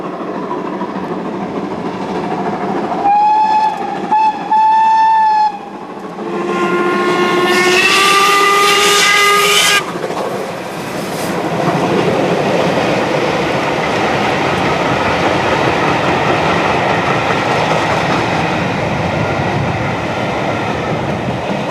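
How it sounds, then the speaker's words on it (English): Steam locomotive on the Western Main Line between Didcot, Reading and Paddington, its whistle sounding loud in two blasts, first a short toot then a longer shriek, over the steady roar and rumble of the running train. "The train used the Western Main Line from Didcot through Reading to Paddington."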